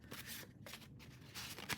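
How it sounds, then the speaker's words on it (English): Narrow tarot cards of the medieval La Corte de Tarrochi deck are shuffled by hand in soft, close riffling bursts with brief pauses, quiet and without any talk. "I suppose you could shuffle like this"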